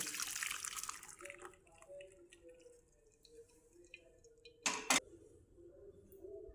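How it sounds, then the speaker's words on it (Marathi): Water from cooked lentils (dal) drains through a sieve as the dal is poured in. A wet splashing pour comes first, then softer trickling and a brief louder splash near the end. "चाळणीमध्ये आपण डाळ ओतून घेऊया"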